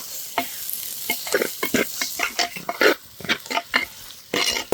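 Shallots and pirandai sauté in a hot pan with steady sizzling, broken by repeated scraping stirs of a spatula. The sound is loud and close, and no one speaks.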